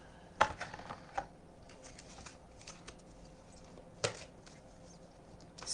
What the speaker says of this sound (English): So I'm just shuffling these very large cards